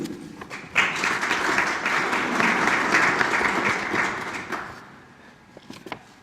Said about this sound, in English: Thank you for all this wonderful applause.